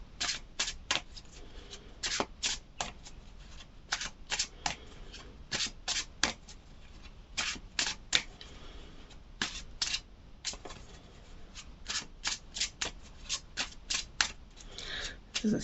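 Tarot cards shuffled by hand in quick, crisp riffling bursts, close and fairly quiet, with short pauses between flurries.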